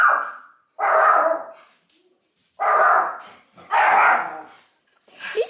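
A dog indoors on a couch barks in four loud, harsh, close bursts separated by short silences, the last one cut off.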